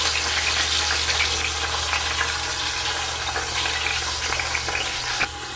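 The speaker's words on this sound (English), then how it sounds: "We're gonna saute it for about 2 to 3 minutes each there to get all sides sauteed up nicely." Pot roast sautés in an Instant Pot, a steady close sizzle with faint crackles over a low appliance hum, continuous with no talking.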